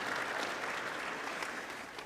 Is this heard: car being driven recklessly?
no